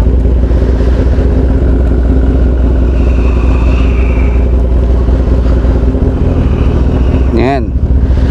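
A motorcycle engine runs steadily at a motorcycle shop in San Pablo City, Laguna, a loud continuous idle throughout with a brief rising whine near the end and background clatter.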